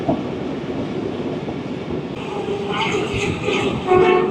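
The Rawal Express passenger train runs at night in Pakistan, heard from on board as a continuous rolling rumble with rhythmic clatter that grows louder toward the end, with a voice talking over it.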